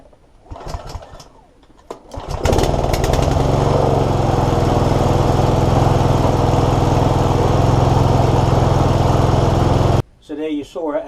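A Sovereign XSZ40 self-propelled lawnmower engine starts after brief talk and runs outdoors, loud and steady for about eight seconds with a constant droning hum, then cuts out abruptly.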